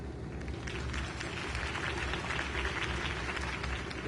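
A crowd applauds a Harvey Dent campaign speech in the Batman Telltale video game, the clapping dense and steady but slightly distant and moderate in level throughout.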